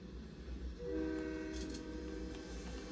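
Train in the Fortnite video game: a continuous low rumble, joined after about a second by a sustained horn-like tone that holds steady to the end.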